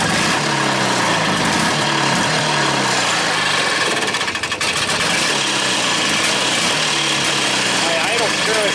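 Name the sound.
old Bravo engine starting and revving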